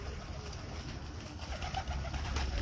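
Pigeon chicks are kept as flying birds; soft cooing comes through a steady outdoor hiss, fairly faint and continuous over a few seconds with no talk.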